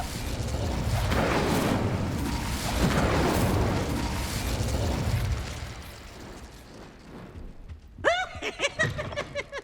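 Incendio fire spell cast in the Hogwarts Legacy game, a sustained roaring, crackling burst of flame that fills the first several seconds, then fades as brighter magical chiming flourishes ring out near the end.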